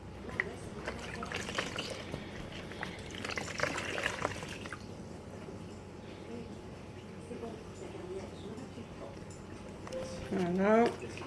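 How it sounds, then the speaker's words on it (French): Water splashes and trickles while someone rinses during washing, with a voice talking over the flow and a louder gurgling burst near the end. "Et vous rincez."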